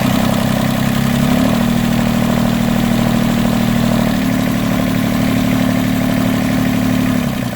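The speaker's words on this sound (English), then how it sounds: "Now I'll increase RPM." A marine boat engine runs loud and close, its steady drone stepping up in pitch early on as the RPM rises, then holding the higher speed before easing off at the end.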